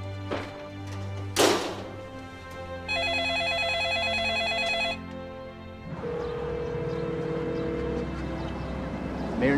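A telephone rings unanswered in a home, its regular electronic trill heard in bursts between a brief thump, a short beep and low background hum.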